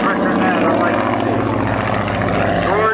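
A 1934 propeller airplane flies close overhead at an airshow, its engine a loud, steady drone with a continuous rumble that holds for the whole moment.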